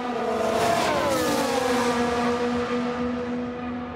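Racing cars in F1 Manager 2022 overtake during a British Grand Prix replay, a Williams among them, with a loud sustained engine whine that sweeps upward in pitch as the cars pass and then holds steady.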